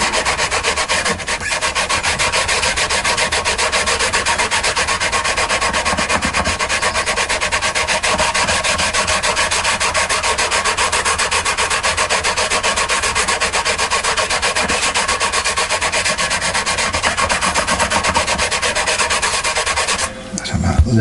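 A file rasps steadily through the guitar nut slots of a Tanglewood Les Paul Custom during setup, a close, continuous scraping with fast repetitive strokes that runs unbroken for about twenty seconds.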